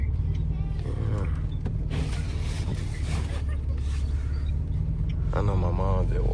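Electric power window motor running in a BMW M550i during a snowy all-wheel-drive drive, a steady whir over engine and road rumble, with voices speaking inside the car.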